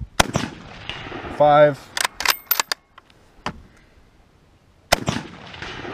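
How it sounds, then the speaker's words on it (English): Several sharp, loud 6.5x52 rifle shots from a Carcano M91 infantry long rifle ring out at irregular intervals on a range, with someone speaking briefly between them. "the Carcano M91 infantry rifle is actually a pretty damn good firearm"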